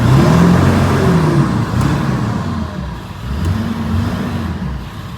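A 2000 Ford 7.3 Powerstroke diesel engine revved while parked, a loud, steady low rumble that swells and eases slightly, close and without voices.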